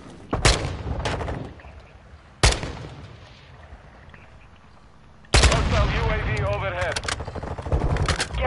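Loud bursts of gunfire from a PS4 video game, with a sharp volley, a second burst and then a longer, denser stretch of shooting and booms near the end, over a steady background rumble.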